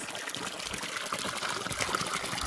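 Cold mountain water trickling and splashing through bamboo on a hilltop farm in Guwahati, Assam, a close, steady bubbling flow with constant small splashes throughout.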